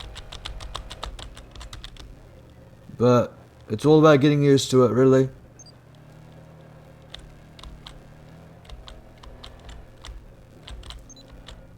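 Rapid clicking of computer keyboard keys pressed to steer in Forza Motorsport, crisp close taps in quick bursts, with someone speaking briefly in the middle.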